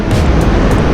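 Choppy waves break on the shore at Lingayen beach, Pangasinan, making a brief, loud, steady rush of surf heard up close with gusty wind noise and no speech.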